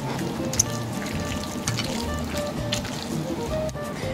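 Linguini noodles being tossed with creamy huancaína sauce make faint wet squelches and soft clicks of utensils against the bowl, over a low steady background hiss.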